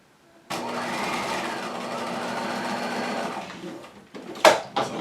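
A sewing machine runs a quarter-inch stay stitch on a side seam of a pant front with set-in pockets. It whirs in one continuous burst of about three seconds, then stops, followed by a couple of short handling clicks.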